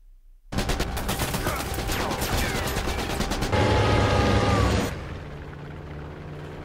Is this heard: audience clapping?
no